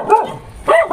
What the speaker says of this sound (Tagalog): Ayan yung aso, si Whitey.